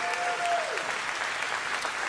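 Audience applause at a White House event, steady broadband clapping from a crowd lasting the whole stretch, with a faint tone fading early on.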